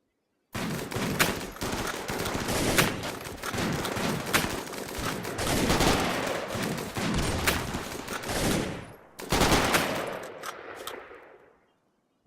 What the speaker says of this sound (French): Voilà, des affrontements sporadiques.